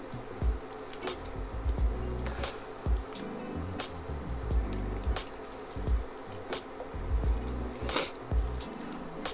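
Chopped artichoke pieces are stirred into a thick cheesy spinach dip, with repeated soft wet squelches and scraping strokes at a close, moderate level.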